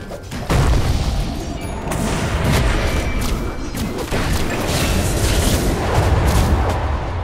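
A Dota 2 tower under attack and destroyed amid a continuous, loud barrage of booming impacts, thuds and gunfire-like blasts with no pauses.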